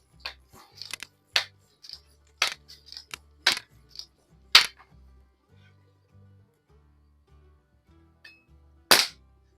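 Kessler multi-pump .22 air rifle firing Crosman Premier hollow point pellets outdoors, heard as a series of sharp, loud cracks spaced irregularly, some paired with pump clicks and handling, with a final loud shot after a quieter gap.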